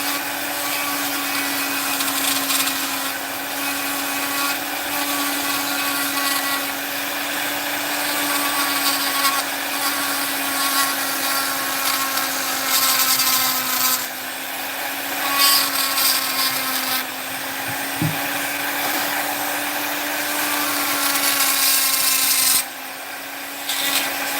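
A handheld rotary tool fitted with a flame burr grinds steadily into a large piece of wood, giving a continuous whining buzz with a constant motor hum and gritty rubbing texture, close and loud throughout, with a brief dip near the end.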